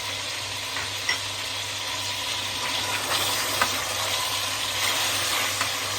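Green chillies and black pepper fry in a pot with a steady, even sizzle and a few soft clicks of stirring, close and continuous throughout.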